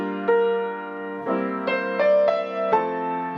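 Piano chords move through a 2-5-1 progression of seventh chords voiced in the left hand, with several sustained chords struck one after another, clear and fairly close, and no voices.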